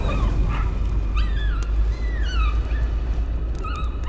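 Dogs whimper and give short barks in the horror game Layers of Fear; rising and falling whines repeat over a steady low ambient hum, with no talking.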